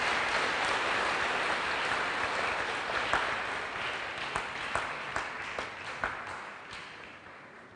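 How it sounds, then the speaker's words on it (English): A university audience applauding a guest speaker at a department anniversary launch, a dense round of clapping that slowly fades over several seconds, with a few sharper individual claps standing out. "May we give him a round of applause."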